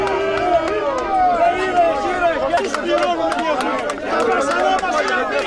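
A gathered crowd outside a hotel in Mesolongi, Greece, jeers and shouts at departing voters, a dense loud babble of many overlapping voices with whistles and cries, close and continuous throughout.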